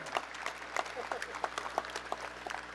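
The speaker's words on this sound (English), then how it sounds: "You guys can clap for yourself" Scattered applause from a modest outdoor audience at a University of Hawaii Manoa welcome event, individual claps distinct and fairly close, with a voice faintly underneath.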